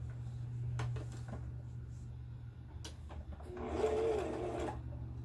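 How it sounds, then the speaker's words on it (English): A sewing machine stitches two quilt block pieces together, its whirring motor running in short bursts with small mechanical clicks and a louder, denser run near the end; no talking. "And then I'll just stitch these two together."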